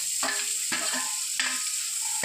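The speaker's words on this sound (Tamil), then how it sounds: "தக்காளியும் போட்டு நல்லா வதக்கணும்." Onion and tomato sautéing in a pan make a steady close sizzle, broken by several rhythmic scraping stirs of a spatula.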